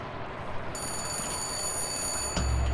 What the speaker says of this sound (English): Let's answer the phone.